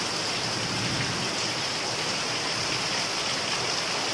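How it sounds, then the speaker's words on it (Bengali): Heavy rain pours down steadily onto a courtyard in a dense, unbroken roar, with no voices. "পুরো আমাদের উঠানের চারিদিকে বৃষ্টি ঝমঝম ঝমঝম করে পড়ছে"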